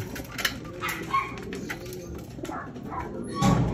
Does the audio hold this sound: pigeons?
yes